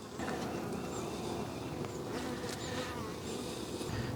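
Dense, steady buzzing of many honey bees close by at an open hive, a continuous insect drone with no talking.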